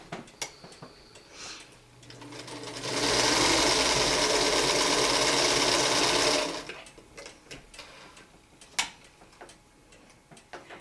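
Sewing machine chain sewing quilt pieces, a loud close steady whirring run of about three seconds, framed by quieter clicks and handling of fabric before and after.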